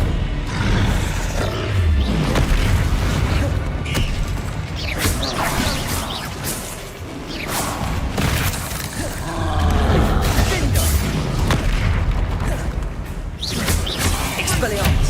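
Spell explosions, Bombarda and Confringo, from the Hogwarts Legacy video game, a dense, continuous roar of booms and crashes with shouted incantations over the top.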